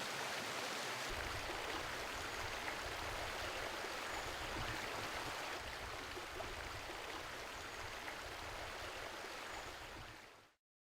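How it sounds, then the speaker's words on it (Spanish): A river in the Aizkorri-Aratz natural park rushes steadily nearby, a dense, even broadband flow without pauses that holds constant for about ten seconds before cutting off abruptly. "seguir el camino escuchando el sonido del río"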